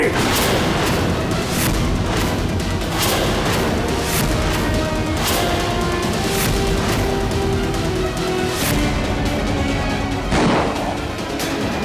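Sharp gunshots crack repeatedly over a dense, loud backdrop of dramatic music and rumbling, with some shouting mixed in, in a Hindi TV drama.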